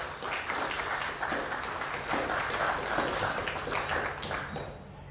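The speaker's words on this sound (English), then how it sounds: "can we have another round of applause?" An audience applauds after a lecture, a steady sustained wash of many hands clapping that carries on for several seconds before easing slightly at the end.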